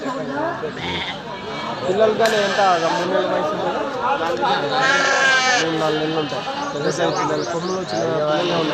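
Sheep and lambs bleat over and over at a sheep and goat livestock market in Kadiri, calls overlapping with steady chatter and bargaining voices throughout.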